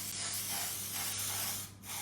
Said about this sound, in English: Ooh, powerful spray, isn't it?